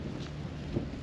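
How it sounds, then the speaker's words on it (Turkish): A brief blast of wind buffeting the microphone on an exposed reservoir shore in winter, a low steady rumble with gusty swells. "buraya çıkar çıkmaz rüzgar zaten başlıyor."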